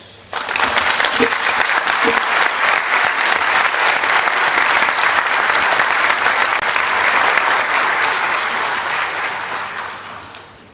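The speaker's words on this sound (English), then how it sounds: "after the applause, which was well deserved" Sustained audience applause fills a large conference hall at an annual general session, dense steady clapping from many hands starting abruptly, holding loud and even for about ten seconds, then tapering off.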